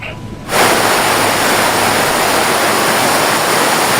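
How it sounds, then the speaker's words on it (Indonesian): Heavy rain pours at Ciwandan port in Cilegon, Banten, a dense, loud, steady hiss that starts abruptly and continues with no voices. "Sementara hujan lebat melanda pelabuhan Ciwandan, Cilegon, Banten"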